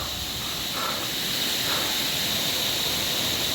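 A waterfall beside a mountain trail on the way to Rudranath in Uttarakhand gives a continuous broadband rush, steady and fairly loud throughout, with no voices over it.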